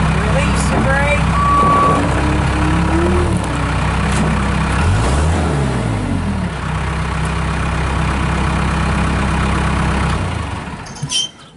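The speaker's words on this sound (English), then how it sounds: "you want to talk about a good running skid loader? There it is, 85 XT, Cummins 4B engine" A Case 85XT rubber-tire skid steer loader with a Cummins 4B diesel engine runs loud and close, a steady heavy engine drone with a rising and falling rev and a high reversing beep sounding throughout.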